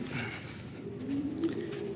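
Soft, low cooing from a racing pigeon, muffled and steady, over a dull background hum.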